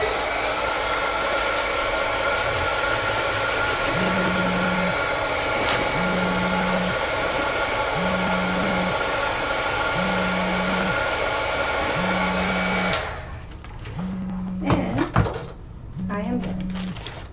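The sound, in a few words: heat tool used on a craft journal page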